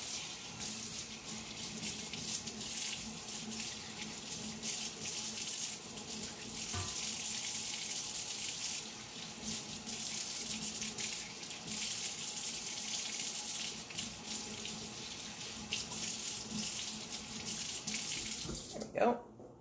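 Tap water gushes steadily into a kitchen sink while food is given a quick rinse during pasta salad preparation, a loud, even running stream near the tap that stops abruptly just before the end.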